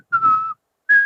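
A person whistles with the lips in imitation of a jiu-jitsu coach's whistling, two short clear tones close up, the first held about half a second and the second slightly higher after a brief pause, with no talking.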